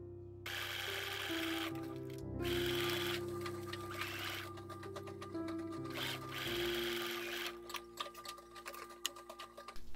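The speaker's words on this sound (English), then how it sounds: "I tried to stitch them together, but then my bobbin ran out" A modern sewing machine stitches pieces of a vintage-style dress together in steady whirring runs with short pauses, close and fairly quiet, with no talk.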